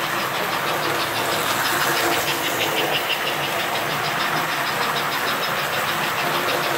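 An American Flyer K335 toy train engine runs steadily, a loud and continuous whirring motor hum with a fine rhythmic clatter that holds level throughout, with no talking.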